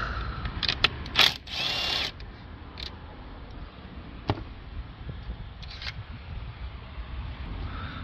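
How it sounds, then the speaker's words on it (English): A ratchet works loose a 10 mm bolt on a car, giving a few short bursts of close metallic clicking near the start and scattered faint clicks and knocks afterward. "we've got a 10 mil bolt right there okay so we'll get that open"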